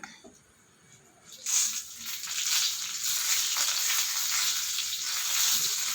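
Mustard seeds spluttering in hot oil while tempering for a dal, tomato and chilli curry: quiet at first, then a loud, steady hiss of frying that swells and continues close up with fine crackling pops.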